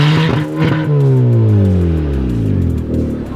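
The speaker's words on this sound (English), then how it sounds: "I told him, I said, rev the damn car. And my man revved it." A sports car engine, a Lamborghini or Camaro, revs loudly and close in one sustained rising and falling burst with no talk.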